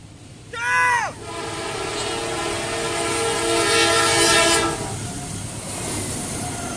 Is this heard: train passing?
yes